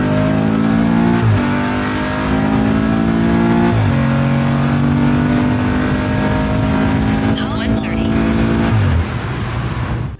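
A big-turbo BMW F30 340i roars flat out from 60 to 130 mph, loud engine note climbing steadily with brief dips at each upshift, sustained and close.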